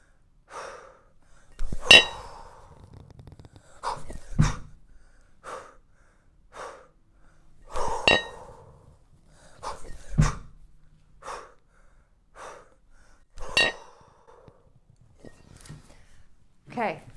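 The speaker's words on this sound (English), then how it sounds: "work with the breathing" Heavy, forceful breaths from a kettlebell sport athlete doing snatch and jerk lifts. Sharp exhales and gasps come in a steady rhythm about every two seconds, close and loud, with faint clinks between them.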